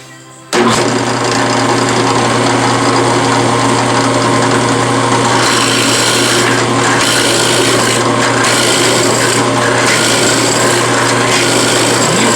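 A steady, grinding drill bores continuously into wood, a constant motor drone with rasping texture and slight changes in pitch as the bit cuts.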